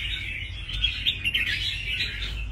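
A caged red-whiskered bulbul calls in a steady stream of bright, close chirps and warbles, loud and alone with no talking.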